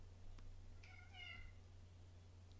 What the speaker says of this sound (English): And these goddamn cats, I don't know if you can hear them in the background